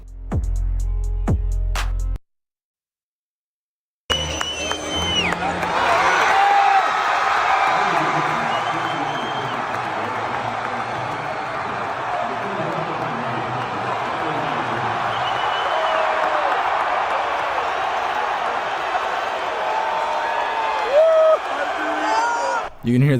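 A large stadium crowd erupts as President Trump walks onto the field, a sustained roar of mixed boos and cheers that swells and holds for many seconds after a brief silent gap, with whoops rising out of the din.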